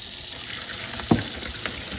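Boiled potatoes and hot water are dumped into a kitchen sink with a hissing, rushing pour and one sharp splashy thud midway over steady running water.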